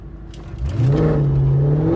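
A BMW X5M launches hard from a brake stand, the engine note climbing sharply into a loud, sustained rising roar close by.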